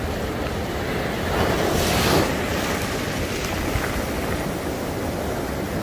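Stormy sea surf at Sandspit beach in Karachi: a loud, constant roar of breaking waves with heavy wind buffeting the microphone, no voices.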